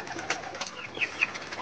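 Pigeons, including newly acquired Madrasi pigeons, coo faintly while gathered to drink water, giving soft, irregular calls and a few light chirps over quiet background noise.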